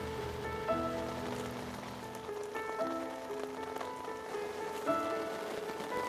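Heavy rain drums steadily on a waterproof bivvy at a carp fishing lake, a continuous near hiss of drops on fabric with faint ringing tones mixed in and no talking.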